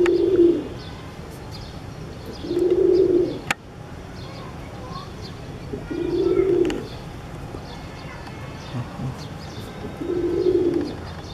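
A pigeon coos in four separate low, rounded bursts spaced a few seconds apart, with faint chirps and rustling between them.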